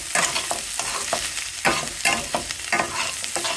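Snake gourd being stir-fried with masala karam podi in a pan, with a steady close sizzle and rhythmic scraping strokes of a spatula repeating about every half second, loud and with no talk.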